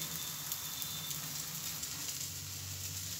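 Besan chilla cooking in a pan over a medium-low gas flame, giving a steady, even sizzle that holds at a constant low level throughout, with no voices.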